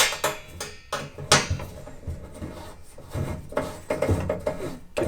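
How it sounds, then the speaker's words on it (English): A nut threaded onto a bolt on a Ford Ranger bedside MOLLE rack: scraping metal clicks and rubbing taps in uneven bursts, close up, with handling knocks between them. "I can sneak this nut in back onto that bolt."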